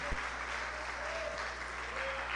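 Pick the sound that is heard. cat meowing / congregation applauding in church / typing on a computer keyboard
congregation applauding in church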